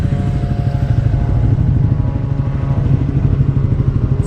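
A new, nearly unridden stock dual sport motorcycle idles steadily up close, its engine giving a continuous low, pulsing rumble with a slight mechanical clatter and no revving.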